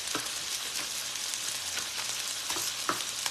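Ingredients sizzling and frying in a hot pan while cooking coq au vin, a steady crackling hiss with occasional stirring scrapes, close and continuous.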